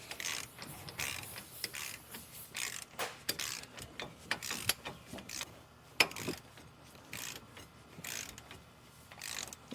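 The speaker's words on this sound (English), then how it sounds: "I hope you can hear the torque wrench click." A torque wrench ratchets and clicks on the hub of a Ford Ranger during a wheel-hub and ABS repair, set to 162 foot-pounds, giving a run of sharp, irregular mechanical clicks and ratchet bursts close by with no talk.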